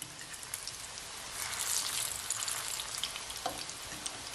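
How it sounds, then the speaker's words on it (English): Ripe plantains frying in a pan give a continuous bright crackling sizzle with scattered pops, moderately close and steady with no talking. "They are perfectly fried."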